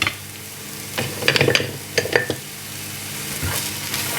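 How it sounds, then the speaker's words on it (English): Finely diced red onion fries in a pan, a close, steady sizzle broken by a few sharp bursts of crackling and stirring clatter, with no voices. "I've just finely diced 1 red onion, and then I'm going to fry that off to let the onion soften"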